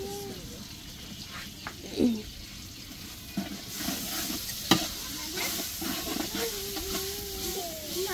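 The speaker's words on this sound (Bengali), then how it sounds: "মামি হলো এখানে খিচুড়ি রান্না করতেছে" Khichuri cooking with meat in a pot, a continuous low sizzle and hiss with scattered scraping and knocking stirs, close by, while faint voices murmur in the background.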